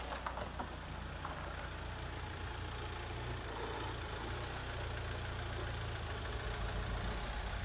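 A Mahindra XUV500 engine idles after a full overhaul with a steady, low, even hum, smooth and unbroken, heard close and fairly quiet.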